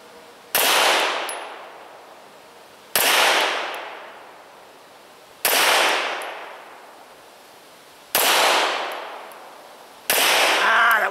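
Smith & Wesson M&P 9mm pistol with a new barrel firing 147 grain Freedom factory reloads, five loud, evenly spaced shots, each sharp crack trailing off into a long outdoor echo, no talk.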